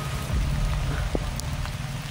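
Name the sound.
rain falling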